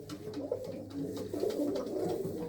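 Pigeons in a Mansa racing-pigeon loft coo in soft, repeated throaty rolls, close and fairly loud over a low background hum, with no talking.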